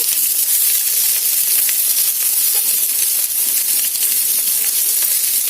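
Thinly sliced onions sizzle steadily in hot oil in a pan, a dense continuous frying hiss with faint crackles and no voices.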